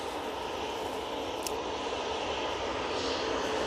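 A KLM airliner moves out at Manchester Airport, its engines a steady, distant roar with wind-like noise at an even level throughout.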